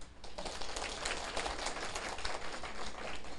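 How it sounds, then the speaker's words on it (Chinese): Steady, faint clapping from a lecture audience at a Taiwanese civic law-autonomy class, a dense patter of many hands that runs unbroken for a few seconds. "你免拍手哟"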